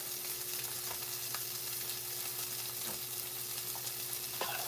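Banana pancakes sizzle and fry in a hot skillet, a steady close crackle with a few faint clinks and no talking.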